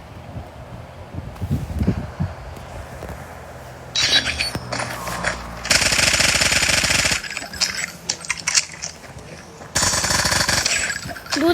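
Loud bursts of rapid video game gunfire with a harsh mechanical rattle, several long sustained volleys separated by shorter pauses, in Call of Duty.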